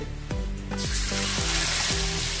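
Semolina and potato snack dropped into hot oil to fry, a loud continuous hiss and crackle rising after the first pieces go in, with repeated descending tones over it.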